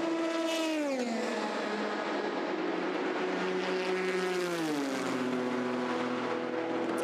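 The Rebellion number 3 race car pulls away at the 2019 24 Hours of Le Mans, a continuous engine drone whose pitch climbs, falls and climbs again through gear changes, loud and unbroken throughout.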